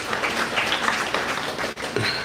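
Applause welcoming guests, an MLA and a municipal councillor, at a Raksha Bandhan gathering: a steady, moderately loud patter of clapping from a crowd filling the whole moment, with a brief dip near the end.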